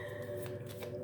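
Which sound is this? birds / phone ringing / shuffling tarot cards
shuffling tarot cards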